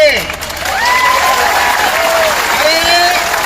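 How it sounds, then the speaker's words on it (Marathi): Applause from a large crowd at an MPSC student protest rally in Chhatrapati Sambhajinagar, honoring former soldiers: dense, steady clapping that holds loud for several seconds, with whistle-like tones rising above it. "एकदा सैनिकासाठी देशाच्या जोरदार टाळ्या होत्या"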